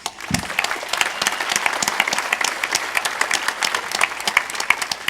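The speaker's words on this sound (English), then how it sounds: "So we should give them all a round of applause, I think." A crowd applauds continuously at an EVE Online PVP tournament final, dense clapping from many hands that stays steady and fairly loud from start to finish.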